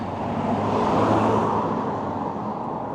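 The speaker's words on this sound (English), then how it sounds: "The cars are going to come past me quite quick." Steady road noise as a car passes nearby on a busy mountain road, a broad rushing hum swelling and then easing off, with no voices.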